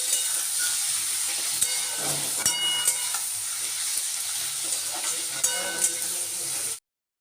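Ginger, garlic, tomato and green chilli fry hard in hot oil for a Bengali lote fish curry, a loud continuous sizzle with spatula scrapes and stirring clatter before cutting off abruptly.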